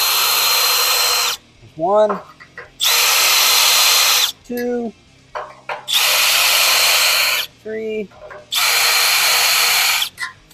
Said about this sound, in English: drill for a couple seconds just to get it so you can see where it starts